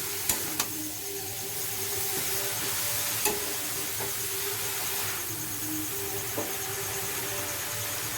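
Boiled cabbage and chicken momo filling being stirred in a pan, a continuous hiss and sizzle with a few sharp utensil taps and scrapes spread through.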